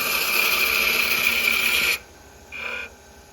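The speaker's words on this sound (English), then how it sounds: "Now I'm just using my ball gouge again." A ball gouge cuts a wooden spinning top on a spinning lathe, giving a loud, steady, hissing whine for about two seconds that stops abruptly, followed by a short, quieter second pass of the cut.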